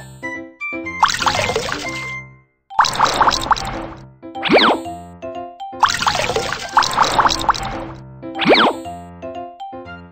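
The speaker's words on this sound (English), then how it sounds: "Tap to wring water out." Cartoon water sounds play as washed clothes are wrung out in a children's laundry game: splashy, bubbly bursts and springy boings repeat twice over light chiming music, loud and close.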